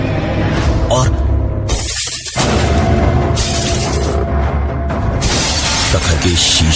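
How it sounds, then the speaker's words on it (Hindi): A glass mirror is smashed with a wooden stick in loud crashing bursts, with bright shattering layered over dramatic background music. "प्रखर के शीशे को तोड़ते ही"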